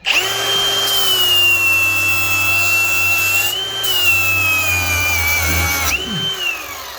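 Milwaukee M18 Rapid Stop angle grinder cutting under heavy pressure, a loud continuous high whine that dips slightly under load and ends with a sudden spin-down, very close.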